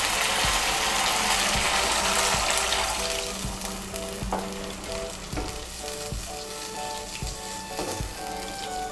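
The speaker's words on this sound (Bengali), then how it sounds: "আমি মশলার বাটিগুলো ধুয়ে এর মধ্যে আমি 1 কাপ জল দিচ্ছি।" A spice paste sizzles loudly in a pan, then a cup of water goes in and the frying quiets to a softer bubbling hiss. Utensils knock against the pan in regular scraping strokes.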